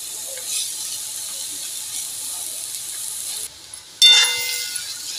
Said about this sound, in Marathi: आता आपण ही जी कुस्करून ठेवली कोरीची भाजी ती आपण मसाला लावून ते आपण एक कढईमध्ये टाकून देऊया तेलावर.